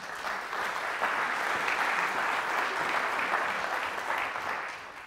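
Audience applause at a conference parallel session on healthy workplaces, a steady, dense clapping from a seated crowd that holds evenly for about five seconds and tapers slightly at the end.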